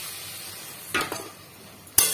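Jackfruit seed curry in a frying pan, a low sizzle with a clattering stir of a spoon near the middle and a sharp burst as a splash of water hits the hot pan at the end, no voices.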